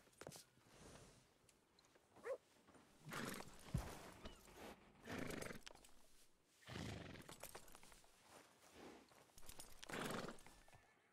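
Horses in a ranch roleplay video game, including an untrained horse, neigh and whinny in several loud bursts over scattered hoof clip-clops, with no talking.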